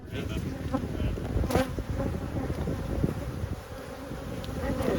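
Honey bees buzz continuously around a hive frame, a dense close drone with scattered knocks and handling sounds.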